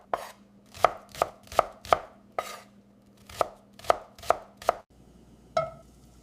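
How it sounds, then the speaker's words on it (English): A knife chops large yellow onions on a cutting board with about a dozen crisp, close knocks in an uneven rhythm, then a pause and one final chop. "Finely dice 4 large yellow onions."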